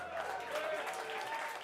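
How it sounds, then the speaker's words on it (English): Brief burst of audience clapping at a live band concert in a small venue, a steady wash of applause from a modest crowd. "That wasn't supposed to like be like clap for me, but thanks"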